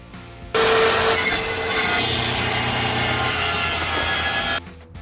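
A power saw rips through an epoxy board for trim in one loud, steady cut lasting several seconds, with a bright whine riding over the grinding roar before it stops abruptly.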